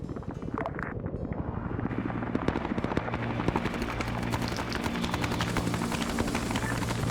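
Military helicopter in an Arma-style multiplayer Zeus operation depicting the Battle of Ia Drang, a constant thudding rotor drone throughout with dense crackling battle noise layered over it.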